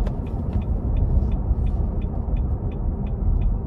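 The 5.6 V8 of a 2024 Nissan Armada SL Midnight Edition SUV under hard acceleration: a sustained low engine rumble and road roar, heard from inside the cabin.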